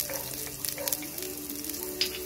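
Garlic goes into a pan with reddening ginger and sautés with a steady close sizzle, broken by a few quick utensil clicks and stirring scrapes, moderately loud with no talking.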